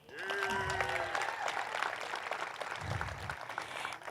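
Brief outdoor applause from guests at a high school groundbreaking ceremony, a moderate wash of clapping over a few seconds with a voice briefly over it at the start.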